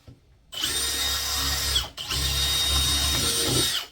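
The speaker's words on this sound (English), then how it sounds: "we'll put a pilot hole in where I intend to drill the holes" A Milwaukee M18 FPT3 Gen 4 cordless drill bores a pilot hole into wood for a house sparrow nest box, whining loudly in two sustained bursts with a brief dip between them, close up and without talk.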